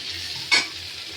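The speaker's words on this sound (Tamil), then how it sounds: "இப்போ வந்து பூசணிக்காய் நம்ம எடுத்து போடுறோம் பாருங்கள். போட்டு நல்லா கிளறணும்" Pumpkin pieces frying in a pan crackle under a quiet sizzle, broken by one short, sharp stirring scrape midway.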